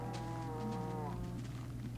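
A single Minecraft cow lets out a long, wavering moo against a constant low in-game drone, close and fairly clear, with no talking.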